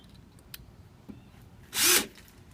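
After a few faint clicks and taps, a power drill with a Phillips head bit whirs in one loud, short burst, driving a screw close by while building a wooden flower box.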